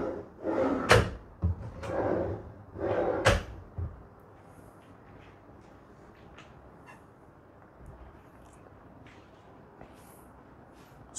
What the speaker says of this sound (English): Soft close hinges.